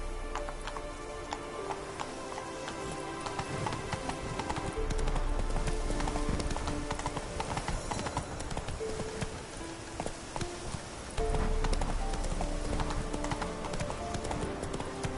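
Roach the horse galloping in The Witcher 3, a fast driving run of hoofbeats continuous throughout, loud and near over a game music and ambience bed, with a little voice heard.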